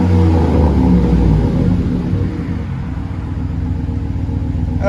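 A Chevy Silverado LT with the 5.3 liter V8 and an aftermarket exhaust idles with a deep, loud, steady rumble, close by and with no talking.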